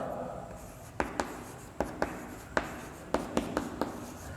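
A pen scratches across paper as a math solution is written out by hand, with short rhythmic strokes and taps close by over a quiet room hum. Nobody speaks.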